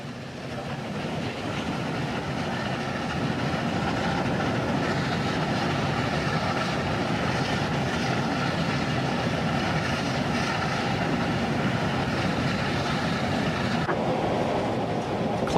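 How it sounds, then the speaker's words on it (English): Union Pacific Challenger steam locomotive and its train rolling east from Dale Junction on the grade toward Sherman summit, a steady, continuous rumble with faint wheel clatter that holds evenly throughout. "the train rolls east from Dale Junction."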